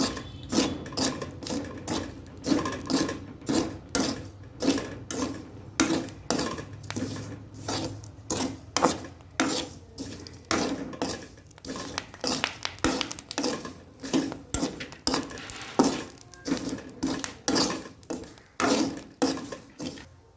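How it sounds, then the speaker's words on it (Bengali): Papad roasts without oil in hot salt in a kadai, producing a close, regular series of gritty scraping strokes, roughly one every half second, with no voices. "নুন গরম হয়ে গেছে পাঁপড়গুলো দিয়ে ভেজে নেবো"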